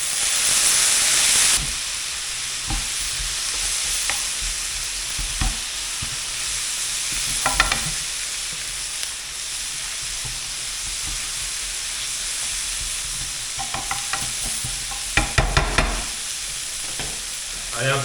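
Beer poured into a sizzling chili con carne base in a pan, giving a steady frying hiss that runs throughout with a few brief louder bursts of bubbling and clatter, no voices.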